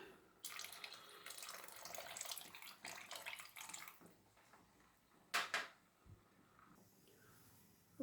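Tamarind water poured into thin sambar in a home kitchen, a steady splashing liquid stream running for several seconds and then stopping, followed by a couple of brief clinks close by.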